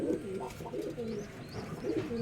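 A domestic show pigeon of a fancy breed coos close by, soft low throaty calls repeating in quick rolling bursts.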